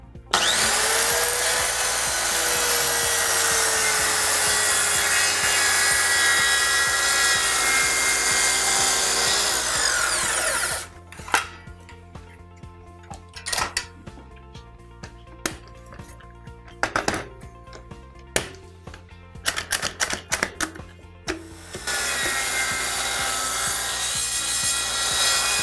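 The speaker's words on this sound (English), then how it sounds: "I've set the saw guide at 50mm, which is half the width of the timber I'm cutting" Hand saw fitted with a saw guide cutting pallet timber, rasping strokes steady for about ten seconds, then broken, intermittent scraping and knocks before continuous sawing resumes near the end.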